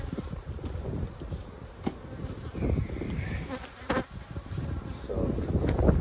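Bees buzz steadily and close around an opened abandoned hive, a dense insect drone with occasional louder passes near the microphone and light wind noise.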